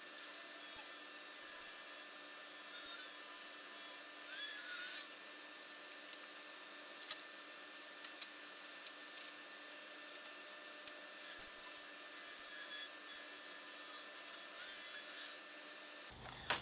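Plywood is cut into quarter-inch edge banding in a workshop, a continuous loud machine whine with steady cutting noise running evenly throughout and a brief change at the very end.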